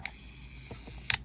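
Several sharp mechanical clicks of a stiff camera shutter release close up, with a couple of softer clicks in between and a crisp double click near the end.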